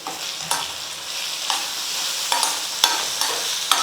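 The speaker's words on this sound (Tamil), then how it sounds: "தேங்காவை சேர்த்துட்டு கலந்து விட்டுட்டு ஸ்டவ் ஆஃப் பண்ணிடலாம்" Chopped ridge gourd with grated coconut is stirred in a hot pan: a steady sizzling hiss with periodic sharp scrapes and taps of a spoon against the pan, close and unaccompanied by speech.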